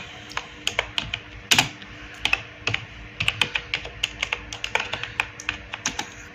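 Keys on a computer keyboard clack in quick irregular bursts, close and crisp, with short pauses between runs of typing and no talking.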